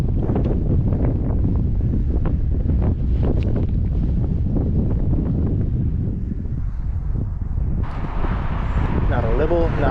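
Steady wind gusting across an open microphone outdoors in the Everglades during a fishing trip, a constant loud rush with some water noise, with people talking.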